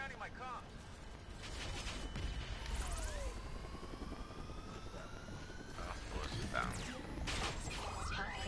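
Helicopter rotor and engine noise in a video game, a steady dense roar throughout under game effects and overlapping talk.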